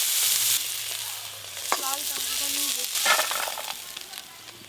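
Tangra fish fry in hot mustard oil with a loud, crackling sizzle, while a utensil scrapes and stirs in the pan in a few bursts over the steady hiss.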